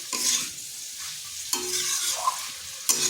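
Ash gourd pieces frying in a pan with green chilli and roasted cumin powder, a steady hiss punctuated by three sharp stirring scrapes against the pan; no voices.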